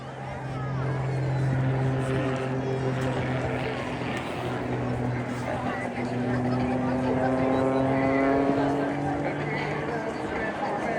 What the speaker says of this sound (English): Sometimes the aircraft will go slightly gyroscopic, but in this case running out of airspeed, letting the aircraft descend through his own smoke.